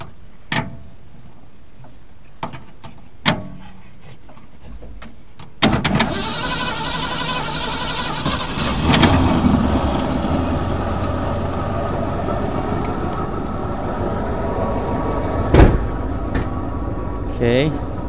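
A 1968 Ford Galaxie cranks after a few sharp clicks and knocks, then catches and settles into a loud, close, rough idle, with occasional bumps and a voice speaking over the running engine.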